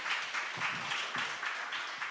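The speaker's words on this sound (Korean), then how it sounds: "박수 부탁드립니다." Audience applause at a live Christian debate show in New York, a soft, steady wash of clapping from a seated crowd at moderate distance, without voices over it.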